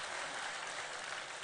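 Audience at a live-streamed Donegal event bursts into a dense, steady round of clapping that fills the whole moment, loud and continuous with no break.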